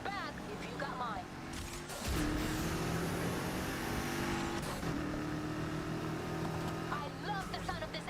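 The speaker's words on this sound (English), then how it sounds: "I love the sound of this engine." A car engine in the racing game Need for Speed Heat revs and drones steadily with a rising, sustained roar, shifting pitch midway, while people talk briefly at the start and end.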